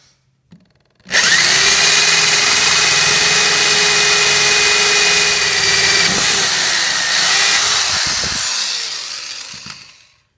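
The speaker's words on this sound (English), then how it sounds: "To make these cuts, I'm going to use this small 1-inch hole saw blade." Power drill spinning a small 1-inch hole saw through a kit car body panel, a loud, steady high whine that starts abruptly, runs about nine seconds and winds down.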